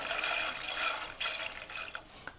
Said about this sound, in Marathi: ह्या पाण्यात आपल्याला ही ज्वारी टाकायची